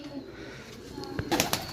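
Pigeons kept for sale cooing softly in a quiet setting, a few low, brief calls and soft rustles rising near the end against faint background noise.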